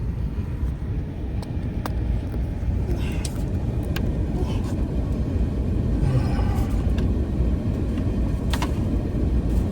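Car driving on a road while out on food delivery rounds near Youngstown, Ohio, a steady loud engine and tire rumble from inside the cabin throughout, with faint clicks on top.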